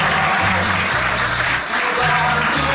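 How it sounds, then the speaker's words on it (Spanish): Crowd applause at an outdoor corn festival in San José Las Flores, Chalatenango, with steady clapping layered over music and a background hum, fairly loud and unbroken. "Un aplauso para ella."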